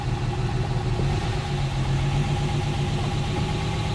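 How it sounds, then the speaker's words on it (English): A 1969 Mercedes 280SE engine idles steadily, a close continuous mechanical rumble with a faint ticking texture and no change in pace across the whole stretch, with no voices. "I think that's a good idle speed too."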